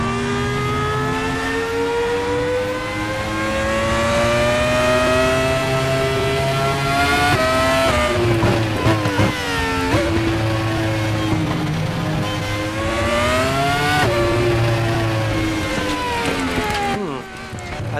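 A Cupra Leon E-Racing electric race car in the RaceRoom sim gives a loud rising and falling motor whine, climbing in repeated sweeps that drop sharply at each shift or lift, with a voice talking in places over it.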